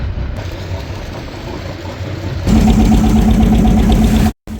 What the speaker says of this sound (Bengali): মাছ ধরার ট্রলার ছিল সবাই চলে আসছে